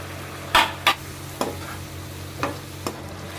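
Tomato sauce goes into a hot pan of frying vegetables with turmeric and chili powder for masala pasta, giving a steady low sizzle broken by a few sharp scraping and splashing bursts, close up with no talking.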